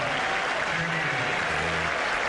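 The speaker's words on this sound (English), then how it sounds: "Crowd cheering" A baseball crowd at a Red Sox home game applauds and cheers in a dense, sustained roar, hands clapping steadily with a few voices rising within the noise.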